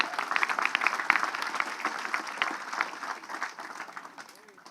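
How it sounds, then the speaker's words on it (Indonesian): Audience applause at a free Betawi cultural gathering, a moderate scattered patter of clapping from a crowd that gradually fades out. "tepuk tangan dong"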